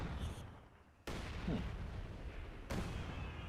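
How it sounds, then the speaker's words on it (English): Artillery in a WWII strategy game pounds a farm, with deep rolling booms and rumbling blasts, one heavy impact near the start and another near the end, over a continuous low battle roar. "So we have artillery going in on the farm."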